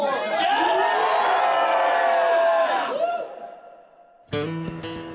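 A large crowd greeting Kate and William on tour in Canada cheers and screams loudly and continuously, the roar swelling then dying away before a brief burst of other sound.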